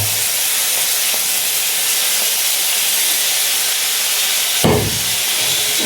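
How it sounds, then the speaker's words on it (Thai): Holy basil stir-fries in a hot pan for pad kra pao with a loud, continuous sizzling hiss, broken once by a sharp clank of utensil on pan. "แล้วก็ผัดมาแรงๆเลย"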